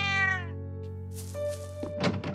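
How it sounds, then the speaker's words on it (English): A cat meows in The Legend of Heroes video game, one clear drawn-out meow followed by a soft thunk, over a steady sustained musical tone. "Hello, kitty."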